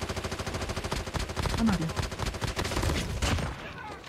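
Rapid automatic gunfire rattles in fast, evenly spaced bursts during a battle royale video game match, loud and sustained, while a player briefly speaks over the shooting.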